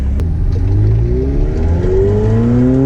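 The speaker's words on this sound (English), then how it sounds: "You can really hear the sound now." A McLaren 720S Spider engine accelerates hard, loud and close from inside the cabin, its tone climbing steadily through the revs in one continuous rising roar with a brief shift-like dip.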